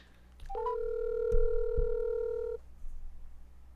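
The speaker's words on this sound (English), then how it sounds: "The phone's ringing." A telephone sounds one steady electronic tone lasting about two seconds, with a couple of faint clicks, in a quiet room during a conversation.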